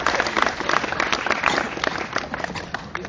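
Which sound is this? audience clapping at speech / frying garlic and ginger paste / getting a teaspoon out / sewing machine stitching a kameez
audience clapping at speech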